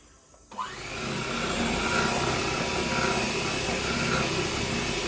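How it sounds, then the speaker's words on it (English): Milk being whisked into cupcake batter, likely with an electric mixer: a steady, loud whirring drone starts abruptly after a short quiet moment and runs unbroken to the end. "And now we're gonna whisk it."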